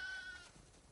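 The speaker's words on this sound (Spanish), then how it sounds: "Tenemos demasiadas ovejas." A sheep bleats briefly in The Last of Us Part II, a single short, faint wavering call over quiet background ambience.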